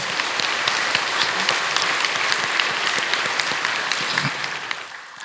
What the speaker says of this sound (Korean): 우리 하나님께 영광의 박수로 찬양 드립시다.